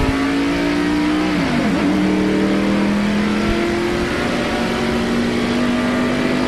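A 1994 NASCAR Winston Cup race car engine roars steadily and loudly after a restart, its pitch dipping then climbing as it revs, with no voices.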